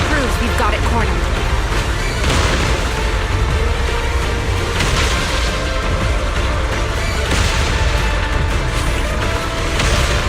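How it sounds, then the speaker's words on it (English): Explosions in the Zenless Zone Zero video game, heavy booms recurring every couple of seconds over a dense rumbling battle mix, with talking throughout. "Move in during the gaps between explosions."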